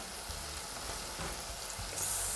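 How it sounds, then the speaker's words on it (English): Chicken frying in a pan gives a steady close sizzle with crackling pops and a brief louder hiss near the end, alone without talk. "chicken is sizzle, sizzle, sizzle."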